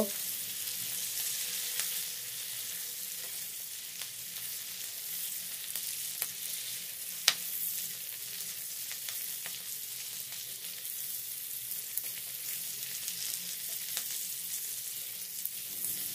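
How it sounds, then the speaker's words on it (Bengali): Chicken pieces, already fried, stir-fried with capsicum and onion in a pan for chili chicken, giving a steady, moderately quiet sizzle with a few sharp clicks of a utensil against the pan and no voices. "এটাকেও ক্যাপসিকাম আর পেঁয়াজের সাথে নেড়েচেড়ে নেব।"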